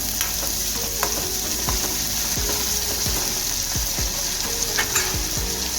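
Tomatoes and garlic sizzle in a pan of hot oil while a spoon stirs them, adding scraping strokes that repeat about every half second over a constant frying hiss, close up with no talking.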